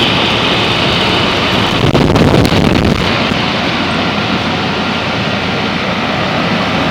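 A 1970s Carrier Challenger 38GS 3.5-ton central air conditioner runs outdoors with a loud, steady whooshing hum of its fan and compressor, a brief gust of wind noise rising midway.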